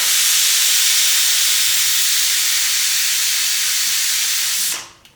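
Pressure cooker of dal on a stovetop venting a loud, steady hiss of steam that holds for several seconds, then cuts off abruptly.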